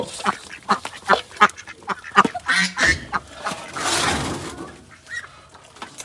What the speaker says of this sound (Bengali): হাঁস প্রচন্ড ডিস্টার্ব করে।